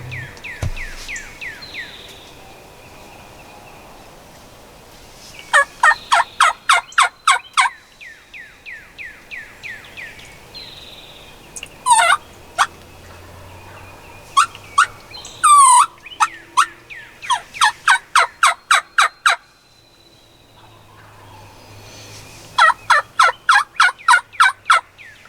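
Wild turkeys near their roost gobble in loud, rapid rattling bursts, repeated many times across the clip with quiet gaps between calls, some near and some farther off.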